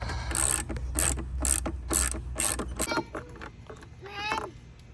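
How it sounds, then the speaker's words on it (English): A hand ratchet clicks in short rapid bursts as it torques down a spark plug in a generator engine, close and crisp, with a few pauses between strokes. "then we'll go ahead and torque this down"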